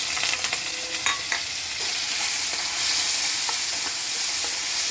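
Turmeric-and-salt marinated prawns fry in hot oil in a pan, giving a steady close sizzle with a few stirring clatters near the start.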